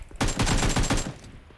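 A quick rapid-fire burst of about ten gunshots rings out in PUBG Mobile, loud and close, lasting around a second before fading, with no talk over it.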